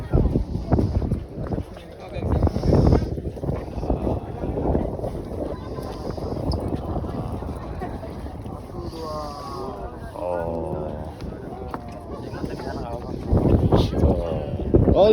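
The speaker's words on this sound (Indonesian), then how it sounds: "Negeri Belanda ini selain anginnya yang kencang teman-teman, jadi tampak terasa dingin sekali" Strong, gusty wind at an outdoor tourist spot in the Netherlands, buffeting the microphone with loud rumbling roar throughout, while a person talks over it.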